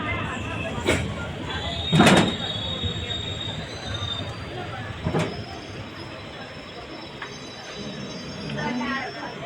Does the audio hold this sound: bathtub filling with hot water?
no